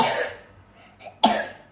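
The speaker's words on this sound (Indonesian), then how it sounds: "Gak boleh buat mainan batuk itu." A small child coughs twice at close range, a rough burst followed by a pause and a sharper second cough, with no talking over it.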